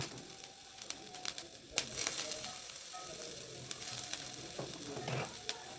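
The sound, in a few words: chopped garlic, ginger and onion sizzling in a pan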